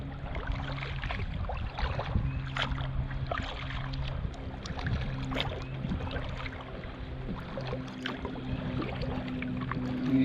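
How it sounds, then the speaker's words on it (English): Kayak paddling downstream on the Gunpowder River at Hemlock Gorge, soft rhythmic splashes and drips from the paddle strokes over a low steady hum and gentle water movement. "the paddle downstream is a whole lot easier than the paddle upstream"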